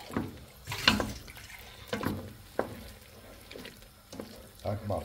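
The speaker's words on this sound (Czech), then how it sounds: "musíme to normálne podlieť vodou" Water is poured into a thickening Frankfurter soup in a pot, giving soft intermittent splashing and trickling bursts at close range over a quiet kitchen background, with some talk.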